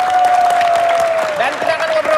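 Studio audience applauding and cheering for a singer on a comedy show, a loud continuous burst of clapping with a voice over it.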